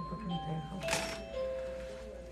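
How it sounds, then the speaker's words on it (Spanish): A doorbell chimes loudly in a beauty studio, two tones ringing out under ongoing background talk. "Ahí sonó bien recio el timbre"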